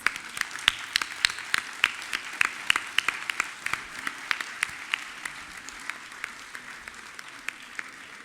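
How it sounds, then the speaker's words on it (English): An audience at an end-of-term school event claps steadily to thank the teachers, a moderate crowd of hands with a few sharp, distinct claps standing out across the whole stretch. "Please join us in thanking them with thunderous claps."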